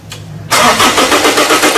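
Diesel common rail trainer engine cranking briefly after a short quiet moment, then catching and running with a loud, rough, rhythmic chug, close up and without talk.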